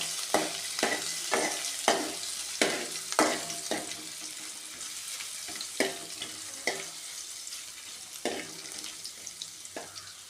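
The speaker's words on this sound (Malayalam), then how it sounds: "കടുക് പൊട്ടിക്കഴിഞ്ഞപ്പോൾ ഇഞ്ചി വെളുത്തുള്ളി ചതച്ചത് ഇട്ട് കൊടുത്തിട്ടുണ്ട്." Crushed ginger and garlic fry in hot oil after mustard seeds have spluttered, for a cauliflower roast. A steady close sizzle runs under a regular series of scraping stirs, with no voices.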